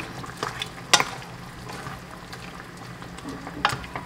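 Braised humba pork is stirred in a pan, with a soft bubbling simmer beneath and a few sharp metallic scrapes and clinks from the spoon against the pan.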